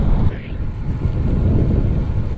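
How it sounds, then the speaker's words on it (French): Strong gusting wind roars across the microphone of a phone mounted on a road bike during a ride, loud and constant, with a brief high whine cutting off near the start. "Il y a énormément de vent"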